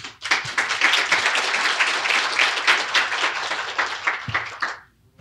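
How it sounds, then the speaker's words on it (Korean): Steady applause from an audience at a natural gas forum welcoming guests, continuous clapping for nearly five seconds before stopping abruptly. "큰 박수로 환영해 주시길 바랍니다"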